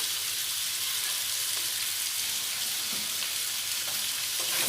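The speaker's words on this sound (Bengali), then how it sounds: "খুব ভালো করে আলুগুলো ভেজে নেব" Potatoes fry in a pan with turmeric and salt, a loud, dense, continuous sizzle that stays even throughout with faint stirring scrapes beneath.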